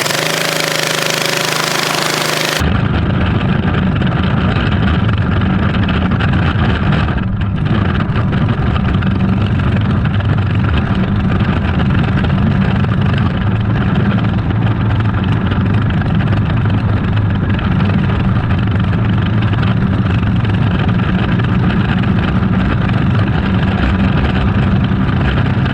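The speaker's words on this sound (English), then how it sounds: "There's a car coming." Half-scale NASCAR race car engine running loud and rough with a rapid hammering rattle, steady and close for about twenty seconds, preceded by a short burst of broadband noise at the start.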